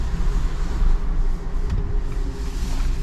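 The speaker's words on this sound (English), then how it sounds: "it sounds like a Tesla or any other hybrid or electric vehicle" A 2021 Jeep Wrangler 4xe Unlimited Rubicon hybrid drives with the window down, producing a low, steady road and wind rumble with almost no engine note.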